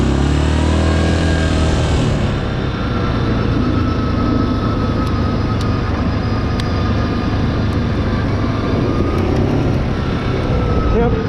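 A 2021 Yamaha Grizzly 700 SE ATV engine drones steadily while riding on a backcountry road near a lake, a constant loud low rumble with wind noise, with no clear talk over it.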